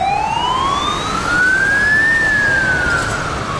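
Emergency siren on a Hong Kong street at night, loud and close: a single rising wail that climbs steadily and then begins to fall, over a faint background hum.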